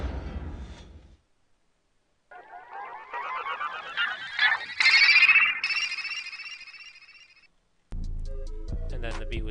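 A futuristic glo beat builds through a riser: a swelling, sweeping synth sound climbs over several seconds after a short gap, then cuts off as the beat's drums and bass kick back in.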